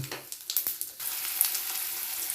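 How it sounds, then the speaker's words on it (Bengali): Bay leaf and dried red chillies sizzle as a tempering in hot oil for a village-style Bengali dish, with a few sharp crackles at first that settle into a steady, close hiss. "সব ভাজা যায় একই তেলে তেজপাতা শুকনো লঙ্কা ফোড়ন দিয়ে দেবো"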